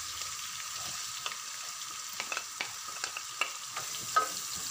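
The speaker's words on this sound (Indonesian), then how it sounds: "Ini saya tumis dulu ya biar wangi." Pounded garlic, ginger and shallots stir-fry in a pan for spicy chicken, a soft steady sizzle with repeated scraping and clacking spoon strokes against the pan, close and moderately quiet.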